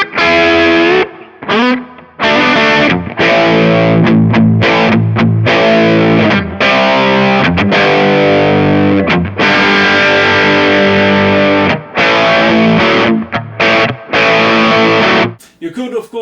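Electric guitar played through a Kemper with a green screen drive in front and a treble booster behind, loud and heavily distorted with bright crunchy chords and short choppy stops over about sixteen seconds, then cutting off.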